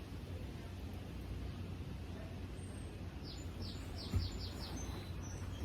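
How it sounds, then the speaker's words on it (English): A short series of faint high chirps from birds, heard over a steady outdoor hiss with no talking. "Hear them birds?"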